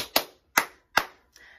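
Three sharp, evenly spaced hand claps ring out close and clear in a children's action song, followed by a softer fourth clap.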